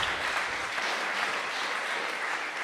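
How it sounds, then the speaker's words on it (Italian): Audience applause at a talk with Jon Savage: a brief, loud, continuous burst of many hands clapping together, steady throughout with no speech over it. "Un applauso perché lo merita."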